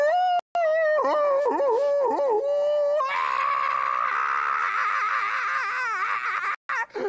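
A man imitates a howling dog, drawing out long wavering, whining howls that rise and fall in pitch, loud and close, with a higher sustained wail in the second half and brief breaks between cries.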